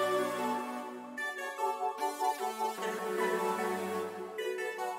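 A reversed, chopped duplicate of a melodic sample is used as an accent in an FL Studio beat. Its tonal, swelling phrases cut abruptly from one to the next, with a pulsing mid section, loud and upfront.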